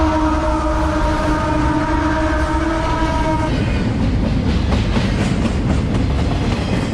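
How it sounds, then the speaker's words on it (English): A train passing close by, with a loud sustained horn blast over the first half, then a steady rumble and clickety-clack of wheels on track, loud throughout with no talk. "hold on, there's a train coming"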